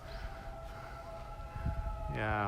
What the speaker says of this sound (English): I think that's the sound of sirens.